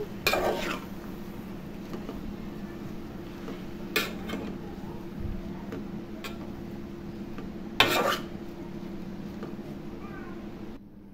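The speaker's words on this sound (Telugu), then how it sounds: "ఒకసారి మొత్తం కలుపుకోండి" Gongura leaves being stirred in oil in a pan, a spoon scraping and clinking against the metal in occasional sharp strikes over a low, steady background hum.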